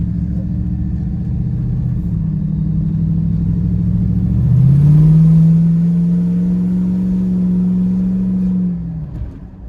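A 2003 Jeep Wrangler Rubicon drives along with a steady mid-pitched engine drone that climbs under acceleration, drops sharply as it shifts from first into second gear, then holds a smooth hum before easing off.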